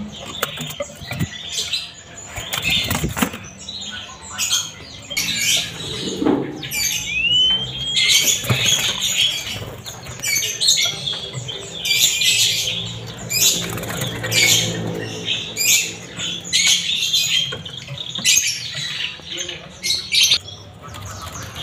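Caged shrikes squawk and chirp harshly in repeated bursts, close by, at a bird shop, mixed with rattling and fluttering sounds.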